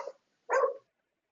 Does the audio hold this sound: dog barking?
yes